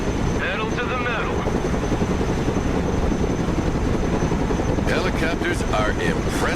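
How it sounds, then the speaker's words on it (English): A helicopter in the video game Broken Arrow, its continuous loud rotor thrum and turbine whine dominating throughout, while a voice speaks briefly at the start and again near the end. "Helicopters are impressive machines. Boy, are they noisy."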